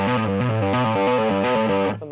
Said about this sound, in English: So pick the first note, pull off, pull off.